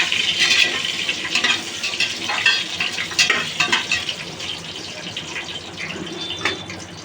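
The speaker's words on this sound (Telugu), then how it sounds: "ఇప్పుడు ఎర్రగడ్డలు వేస్తున్నా" Chopped onions frying in a hot pan for Telugu-style coconut milk rice, a steady close sizzle with scattered crackles and stirring scrapes, no talking.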